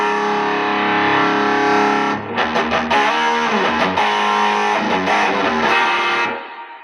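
High-gain electric guitar through a J. Rockett HRM pedal with the mid-range cranked: a sustained distorted chord, then a choppy run of palm-muted chugs and riffs, loud and upfront with no talking.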